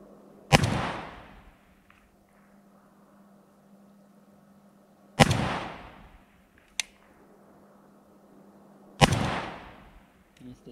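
Three sharp rifle shots from a red-dot-sighted rifle fired at a 50-meter target, each a loud crack with a short decaying tail, spaced several seconds apart, with a faint click-like tap between the second and third.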